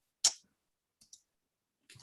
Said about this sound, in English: I'm clicking around a little bit